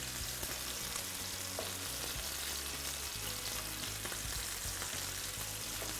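Meat searing in a covered-to-be pan on the stove, a dense, steady sizzle that fills the whole stretch, loud and close with faint scraping and stirring underneath and no talking.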